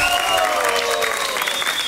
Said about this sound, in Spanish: Aplausos para Julián y Manuela